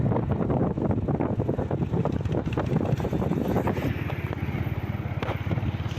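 A motorcycle rides along a road between Ochira and Cheruthoni, its engine giving a continuous rumbling drone under heavy buffeting wind noise at the microphone.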